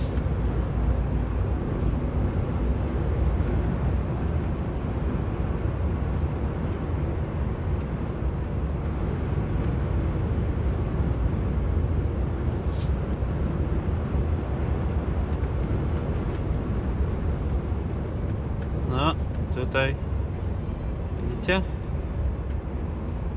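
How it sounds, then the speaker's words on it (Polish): A 2020 MAN TGX truck slows on engine braking alone, giving a steady low engine drone while rolling down in speed, with a few brief sharp clicks and rattles near the end. "Wyhamował samym silnikiem."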